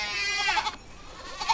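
A goat in the film Hagazussa gives a wavering bleat, breaks off briefly, then lets out two shorter bleats, close and fairly loud with no talk over it.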